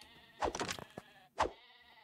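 Sheep in the Craftopia video game bleat twice: a longer wavering cry, then a short second bleat. Both are fairly clear over soft, steady background game music.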